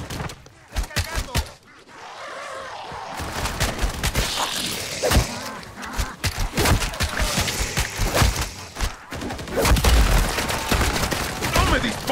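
Heavy gunfire from a Call of Duty MW3 Zombies match: dense bursts of shots and sharp impacts keep going almost without a break and stay loud throughout, with a voice speaking among them.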